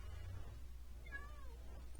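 A cat meows once in the Minecraft modpack Garden of Glass, a short rising-then-falling cry at moderate distance over a steady low game background hum.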